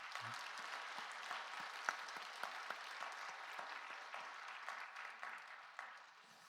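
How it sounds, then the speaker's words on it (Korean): A church congregation at a Christmas morning service claps steadily in encouragement after a children's and youth ensemble. The applause is soft and somewhat distant, with scattered sharper claps, and it tapers off near the end. "한번 격려 박수 하십시다."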